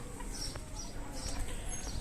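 Two sick desi roosters suffering from a cold cluck softly near the recorder, the sounds mixed into a steady rustling farmyard background.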